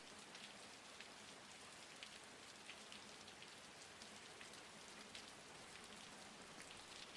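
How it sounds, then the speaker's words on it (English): Steady rain pattering against a window pane, a soft, even wash of dense droplets with faint scattered taps, alone and quiet throughout. "The rain has settled into a steady, rhythmic pulse against the window pane"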